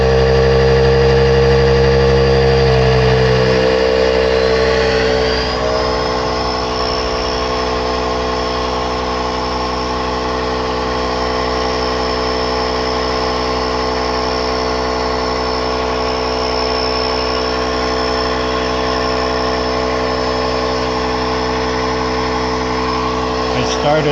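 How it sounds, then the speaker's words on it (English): A Gicle electric paddle board pump inflating a board runs steadily and loudly for the whole stretch, a constant mechanical whine and hum whose pitch shifts slightly early on, then holds as pressure builds. "I'm going to pump it up to 14."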